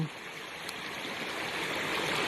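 Fire Creek, a mountain stream beside a trail campsite, rushes steadily with broadband watery noise at a constant moderate level, with no voices.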